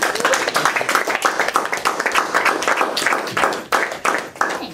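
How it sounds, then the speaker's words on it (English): Applause from a class after a lecture, dense overlapping clapping that continues steadily throughout, loud and close. "a round of applause."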